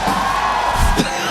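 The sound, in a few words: crowd cheering at an esports event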